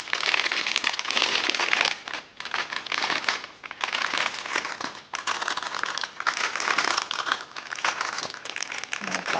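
A plastic bag crinkles and rustles continuously up close as cake pop mixture is put into it, loud dense crackling with a few brief pauses between handling movements, no voices.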